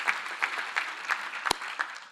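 Conference audience applauding departing panelists, producing sparse, rhythmic hand claps from a few people at a moderate distance, with one sharper clap standing out.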